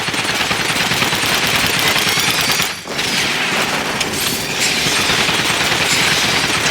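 Dense, continuous automatic gunfire in the video game Alien: Fireteam Elite, loud and sustained with a brief dip near the middle, with no clear talk over it.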